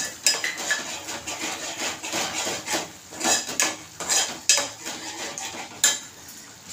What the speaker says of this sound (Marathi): ही भेंडी पण याच्यातच घातलेली आहे आणि तेलात परतलेली आहे।